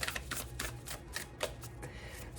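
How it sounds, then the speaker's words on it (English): A deck of tarot cards being shuffled by hand, giving soft, rapid riffling bursts in an irregular rhythm, close and quiet, with no talking. "So I'm going to finish shuffling these."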